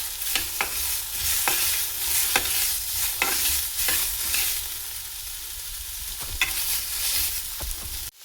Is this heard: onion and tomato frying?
yes